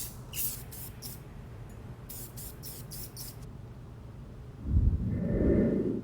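Short hissing bursts of spray paint from a can coating a pulley for a mower pull starter, several quick puffs close by followed by quiet and then a low rushing noise.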